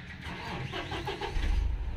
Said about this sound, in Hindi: अब गाड़ी को स्टार्ट करके क्लच प्लेट को चेक करते हैं।